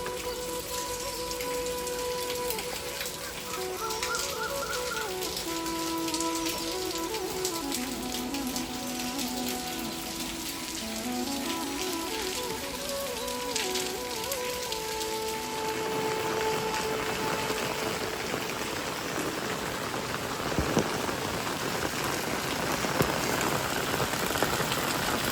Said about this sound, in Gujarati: સવારમાં 5 વાગે ચાલુ થયો તારનો એક ધારું વરસાદ ચાલુ હો